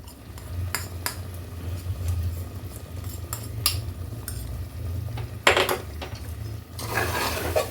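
Ghee being stirred into sambar rice in a pot, with soft scraping and several sharp metallic clinks of a spoon against the vessel, fairly quiet and close.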